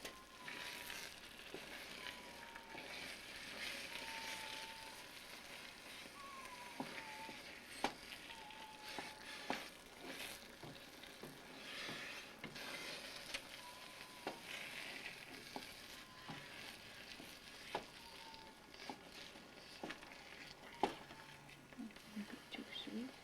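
Thick sweet manju filling simmering and being stirred in a pot, a soft steady bubbling hiss with scattered scrapes and small taps, fairly quiet in a home kitchen.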